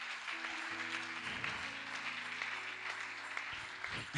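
A congregation claps together during a Sunday church service, a steady, dense burst of applause filling the room over a few seconds, with some sustained tones beneath it.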